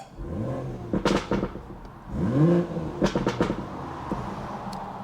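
A BMW engine revving with its exhaust flap open, with several loud, close throttle blips that rise and fall in pitch, separated by a rough idle and a few sharp crackles.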